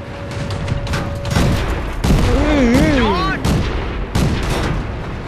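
Tank gunfire in the video game World of Tanks, with several sharp cannon booms spaced a second or so apart, mixed with whistling tonal game effects and someone speaking over the action.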